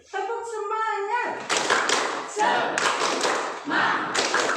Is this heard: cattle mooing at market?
no